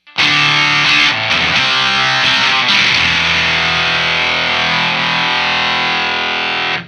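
Electric guitar played through a Jam Pedals Octaurus LTD octave fuzz pedal with the guitar volume rolled back almost all the way, giving a loud, continuous fuzzy strummed chord that rings out and sustains without talking.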